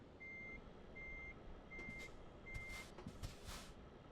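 Reversing beeps from a truck in the game Euro Truck Simulator 2, four evenly spaced steady tones over a low engine rumble, with a few hissy air-brake bursts near the end.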